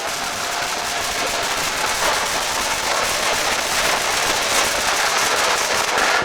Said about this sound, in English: Oh, it's on fire. Oh, it's fireworks.